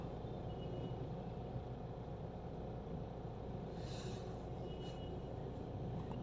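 A steady, rumbling LRT light rail train passes nearby on Recto Avenue in Manila, its low mechanical roar continuous throughout, with faint higher screeches and traffic noise mixed in.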